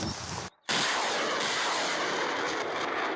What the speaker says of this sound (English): 2 shells fire, 2 shells open fire.